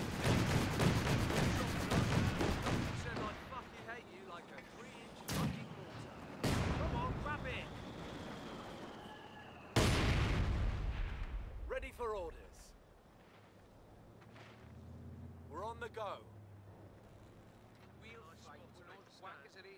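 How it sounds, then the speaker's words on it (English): In the Company of Heroes 2 video game, Land Mattress rocket artillery fires in a battle, heavy booming salvos and blasts over rumbling combat, with a unit voice speaking during the barrage. "Land mattress firing barrels as requested."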